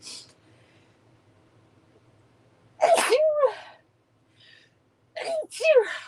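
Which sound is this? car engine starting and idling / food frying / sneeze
sneeze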